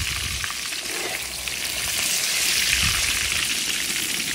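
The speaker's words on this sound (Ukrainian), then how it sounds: "Тоді його варимо трішки в олії." Carp frying in oil in a cauldron over an outdoor fire gives a dense, steady crackling hiss that swells slightly midway, close and without speech.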